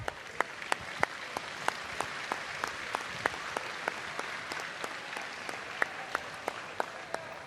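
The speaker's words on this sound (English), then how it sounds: "Let's give a round of applause for all our sponsors and volunteers." Scattered applause from a modest crowd honoring sponsors and volunteers at a county 4-H fair swine show, distinct individual claps ringing out over a soft, steady patter, fairly faint and distant.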